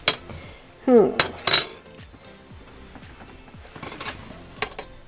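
Metal spoon clinking against a pot of hot turkey vegetable stew at a campsite, a few sharp close clinks and scrapes followed by quieter utensil taps.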